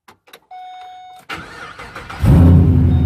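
After a few clicks and a faint tone, a Pontiac G8 drag car engine cranks and fires, then roars into a loud, deep, throaty idle up close.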